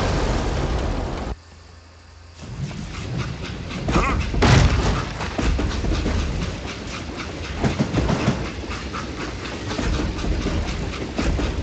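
Train in the Western video game Call of Juarez: Gunslinger, a steady rumbling rattle with rhythmic clacking and a loud thump partway through, briefly dropping out near the start, under mixed game noise.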